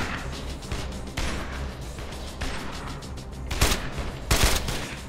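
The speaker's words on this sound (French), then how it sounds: "j'aime bien le bruit qu'elle fait là lm 60" An LM60 machine gun in State of Decay fires in rapid repeated bursts, punchy and close, with heavier impacts near the end.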